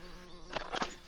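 Honey bees buzz around an open hive during a honey harvest, a steady droning hum with two louder swells as bees pass close to the microphone.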